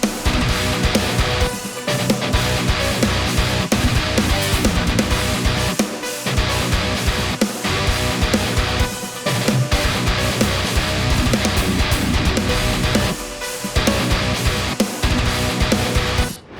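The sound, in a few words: mixed guitar tone played in the mix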